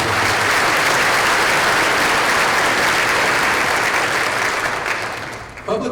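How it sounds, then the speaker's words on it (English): Loud, sustained applause from a large audience at a school district keynote event, a dense wash of clapping that tapers off near the end. "Let's give those guys a round of applause"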